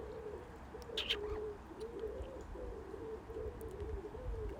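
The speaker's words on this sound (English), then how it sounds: "Bird." Soft, repeated cooing bird calls, likely a pigeon or dove, sound in a steady rhythm over a low background rumble, with a brief brighter chirp near the start.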